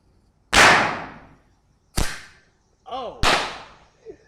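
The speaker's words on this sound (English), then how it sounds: "I set up a firecracker in the background. It was the one with the big green fuse, so it was louder." A firecracker with a big green fuse bangs sharply three times in the background, each loud crack trailing off quickly, with a short excited voice cry between the second and third blasts and a faint sound at the end.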